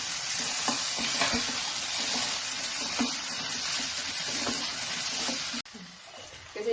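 Chopped tomato frying with softened onions in a pan, a steady loud sizzle with the scrape and clatter of stirring, dropping suddenly to a quieter sizzle near the end.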